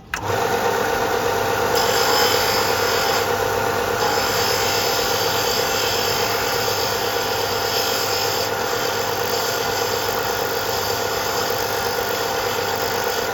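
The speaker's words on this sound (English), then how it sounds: "I'm just going to do that by rolling it against the sander" Guitar nut, a small part for a re-fret, being rolled against a running sander gives a steady, loud whine with a rough abrasive hiss that holds without a break for several seconds. No voices are heard.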